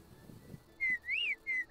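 A bird whistles in Final Fantasy XIV, three clear, shrill notes, the middle one rising and falling, set apart by short gaps over a quiet game background with no talk.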